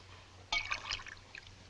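Water pours into a glass in a quiet room: a short bright liquid trickle begins suddenly, gurgles for about half a second, then fades to faint drips.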